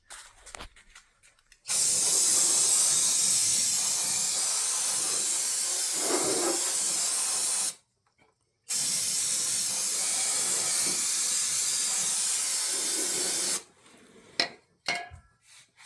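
Brake cleaner sprays from an aerosol can during an oil change in two long, loud, steady hissing bursts of about six seconds each, separated by a brief pause, with faint clatter before and after.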